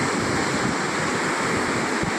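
Sea water at the Alang shipbreaking yard rushes and washes continuously, close by, with a steady broadband wash and some wind buffeting over the short span.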